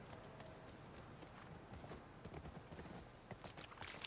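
Horse hooves clip-clop at a steady walking pace in The Last of Us Part II, faint and continuous under a soft game ambience.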